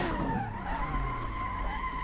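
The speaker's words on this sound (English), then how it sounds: "we are able to get some decent slides going on right now" In the Assetto Corsa racing game, a drifting Supra's tires squeal in a long, continuous skid over a steady engine drone, loud and sustained throughout without pause.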